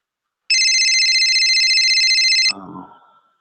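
A phone rings steadily for about two seconds at a clear, close level, then the tone cuts off as the call is answered and muffled movement sounds follow.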